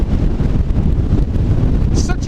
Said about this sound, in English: Crazy windy, almost gale force winds